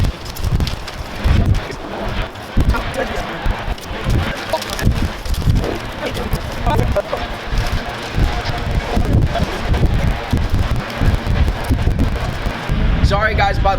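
Gusty outdoor wind buffets the microphone in rough, continuous rumbling waves while brake calipers on a 2016 Camaro are being painted, loud and steady throughout with faint background clatter.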